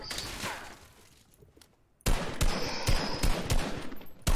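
Assault rifle fire in the video game Fortnite, with a soft stretch of distant shots giving way after a pause to loud, dense bursts of rapid gunfire.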